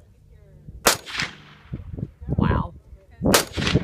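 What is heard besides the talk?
submachine gun firing (P90) at shooting range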